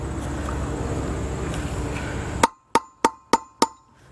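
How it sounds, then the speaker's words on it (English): A hammer taps a bearing race into a boat trailer hub: five sharp, evenly spaced metallic knocks with ringing decay, following a stretch of low background rumble. "Little by little, just going around the perimeter of that race evenly. Kind of like a four-point, couple taps on each side, so it's not twisting."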